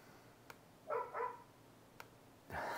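Dog barking somewhere in the house, two quick faint barks and then a longer bark, distant and alone in a quiet room.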